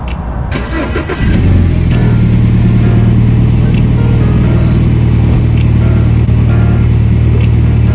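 A car engine cranks and catches about a second in, then settles into a steady, loud idle hum that runs to the end, with no talking.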